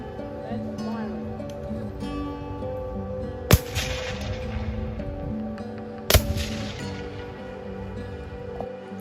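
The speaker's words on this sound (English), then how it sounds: "Firing by file to the right, then firing." Two sharp musket volleys crack out at a Fort Monroe reenactment as soldiers fire by file, each loud report standing out above a steady backdrop of outdoor crowd murmur and talk.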